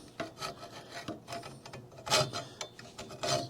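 Hacksaw cutting through protruding parts of a golfer's batting cage during a repair, close rasping strokes in an uneven back-and-forth rhythm, fairly quiet, with no talk.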